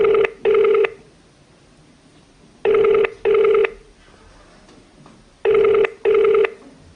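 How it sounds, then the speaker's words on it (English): An unanswered telephone rings in three double-ring bursts, each pair of loud, steady electronic tones followed by a pause, clear and close with no other sound. "the phone of the campaign public relations officer, Shamba Muzungu, went unanswered"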